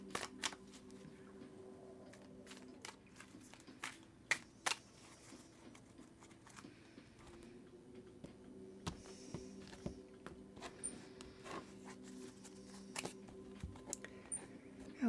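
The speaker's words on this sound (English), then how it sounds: "I'm going to go ahead and give her a great shuffle for you" Tarot cards being shuffled by hand, a soft steady riffling broken by sharp snaps and taps, close up with no voices.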